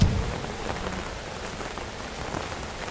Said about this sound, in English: It's raining, I'd better get an umbrella.